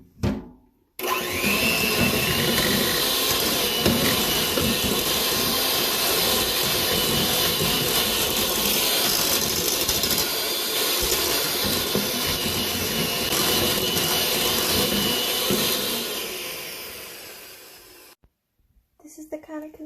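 An electric mixer whirs steadily for about seventeen seconds, blending egg yolk into alfajores dough, then cuts off abruptly near the end.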